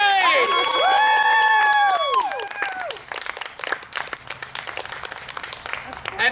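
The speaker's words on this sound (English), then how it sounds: "Now clap as loud as you feel like clapping!" An audience claps and cheers after a juggling show. Loud, rising cheers and shouts come first, then break into a steady patter of close applause.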